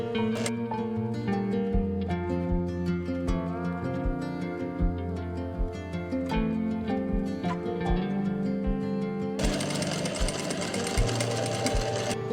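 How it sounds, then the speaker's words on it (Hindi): A sewing machine stitches fabric along a curved edge for a half van neckline, running in a fast steady mechanical whir with regular needle knocks, close and continuous, with a brighter rattling stretch near the end. "यहाँ पे हमने सिलाई लगा देनी है।"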